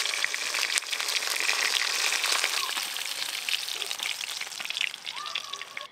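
Pieces of a large black pomfret fish frying in oil in a kadai. A steady, fairly faint crackling sizzle continues throughout with no break.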